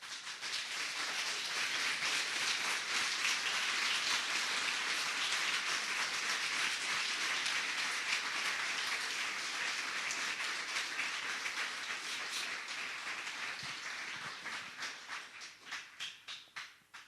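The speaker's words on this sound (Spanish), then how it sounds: "¿Por qué no le das un aplauso a Dios?" A church congregation applauds together in a long, dense, steady burst of clapping that holds for about fourteen seconds, then thins out and fades away.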